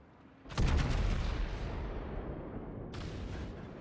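Naval artillery fire from battleship guns in World of Warships, one heavy booming salvo that rolls on with a long rumbling decay, then a second sharper report near the end, moderately loud.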